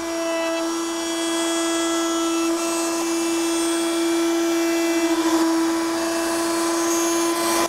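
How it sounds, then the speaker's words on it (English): A router table bit spins steadily as a one-inch wooden square is fed through, rounding it into a dowel; a loud, continuous high whine with a sustained tone and slight shifts as the stock passes, heard alone without talk. "Now I'm going to raise the bit and run this through 4 more times."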